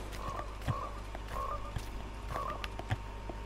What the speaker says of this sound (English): A frog? A frog!